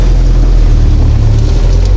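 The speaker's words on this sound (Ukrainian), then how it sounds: "Ливі як з відра." Heavy pouring rain drums on a car roof from inside the vehicle, a loud, dense, constant roar with deep low rumble and no voices.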